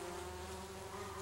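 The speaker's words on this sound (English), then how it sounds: "is covered in bees. I hear them." Bees buzzing on lavender in a garden, a faint, steady droning hum with no voices.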